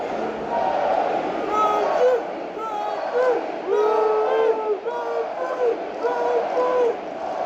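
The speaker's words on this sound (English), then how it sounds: "He gets a round of applause." A hockey arena crowd applauds and cheers for the Czech goaltender in a broad, continuous roar with whistles and shouts, while a commentator talks over it.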